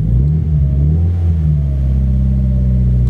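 A manual-transmission car pulls away in first gear, its engine rising steadily in a loud, close, continuous rev as throttle is applied at the clutch bite point; no talking.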